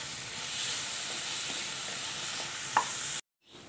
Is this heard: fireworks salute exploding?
no